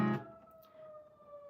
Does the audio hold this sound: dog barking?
no